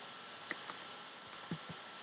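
Soft, uneven keystrokes tapped on a computer keyboard, a handful of quiet clicks spaced irregularly over two seconds with no voices.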